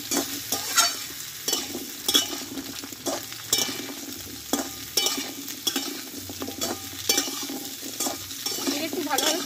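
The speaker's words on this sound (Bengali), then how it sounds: "এটা একটু ভালোভাবে কষিয়ে নেবো এবার।" Pumpkin, pointed gourd and potato sautéing in a pan, a steady sizzle with repeated scraping stir strokes at close range, continuous and fairly loud with no talk.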